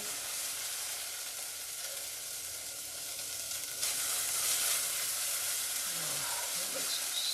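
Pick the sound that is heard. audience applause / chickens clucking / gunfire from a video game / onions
onions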